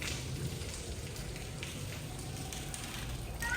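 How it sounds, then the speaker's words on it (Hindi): Steady rain falls in a waterlogged, muddy residential lane, a continuous faint hiss of drops on the surfaces with no break across the whole stretch. "बारिश हो रही है, कपड़े भी पूरे गीले हो गए हैं।"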